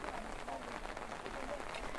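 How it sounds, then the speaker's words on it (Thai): Steady rain falls outdoors as a soft, even hiss that fills the whole stretch at low volume, with no one talking over it. "เห็นไหมคะว่าฝนมัน มันน่าเดินเล่นเนาะ"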